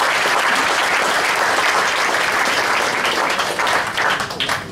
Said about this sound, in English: The applause is nice